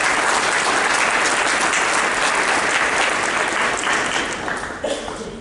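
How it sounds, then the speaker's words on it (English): An audience at a school board meeting applauds in a loud, dense burst that holds steady, then thins and tapers off near the end. "But let's do give her a round of applause."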